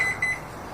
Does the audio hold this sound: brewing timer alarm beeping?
yes